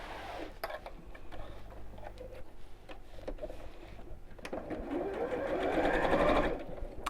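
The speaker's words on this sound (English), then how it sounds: "we'll sew across those." Sewing machine stitching across child's backpack webbing, a steady rapid mechanical chatter running throughout and swelling louder toward the end, with scattered ticks and clicks, no talking.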